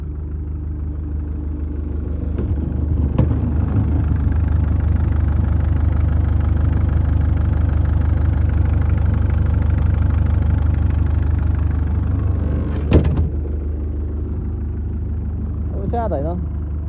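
A German-built 2011 Weidemann 1370 CX50 mini loader, 35.7 kW, idles steadily with a low, even engine drone for the whole stretch, a couple of brief clanks and a short squeak rising over it.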